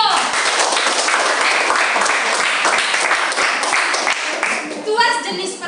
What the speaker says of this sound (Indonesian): Iya, tepuk tangan buat Dio.